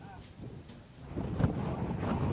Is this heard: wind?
yes